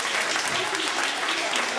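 Applause for a swimmer at a Polish swim club's Christmas Eve event, a steady crowd clapping throughout, fairly loud and continuous.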